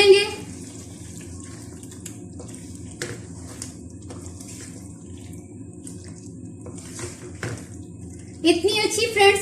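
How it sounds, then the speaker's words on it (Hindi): Chicken karahi with green chili and ginger fries in a pan with a steady, moderate sizzle and occasional clicks from stirring. The sizzling swells louder toward the end. "अब हम इसको भून लेंगे"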